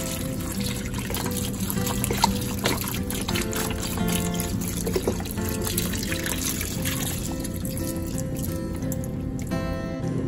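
Beef broth trickles and splashes as it is poured into a crockpot, a soft, continuous liquid sound with faint drips against a steady kitchen background.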